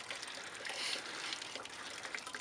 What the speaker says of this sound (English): We're gonna go ahead and sparge with it anyways.